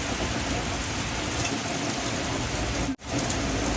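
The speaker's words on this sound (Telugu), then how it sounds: "వర్షం పడుతుంది." Steady rain falls outdoors at a rural farm, a dense even hiss that continues unbroken except for one brief dropout near the end.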